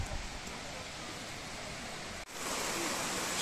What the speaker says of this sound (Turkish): Su sesine ulaştık arkadaşlar.